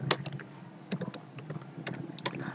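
Computer keyboard typing while entering an Excel formula, a handful of quick close clacks in short bursts over a quiet room hiss.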